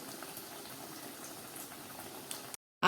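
Batter-coated methi toast frying in hot oil bubbles softly and continuously, a low steady sizzle that stops abruptly at the end.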